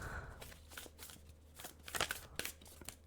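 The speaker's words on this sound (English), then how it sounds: "This deck is kind of hard for me to shuffle because it's gigantic." A gigantic deck of oracle cards is shuffled by hand, giving close, soft riffling and flapping rustles with a few sharper snaps partway through.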